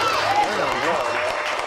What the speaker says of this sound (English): can y'all make some noise for Navv one more time, man?